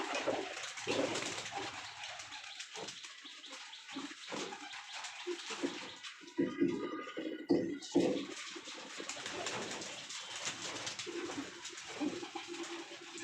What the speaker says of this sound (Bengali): এটা হচ্ছে আমার কবুতরের ঘর